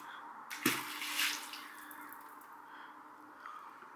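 A pool chemical floater tossed into an outdoor swimming pool lands with a single splash, followed by a brief wash of water and then quiet ripples.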